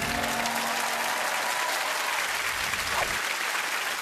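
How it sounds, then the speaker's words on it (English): A studio audience claps at a TV panel game show, a continuous loud wash of applause with no break. "The sound of the audience clapping is what you want to hear tonight."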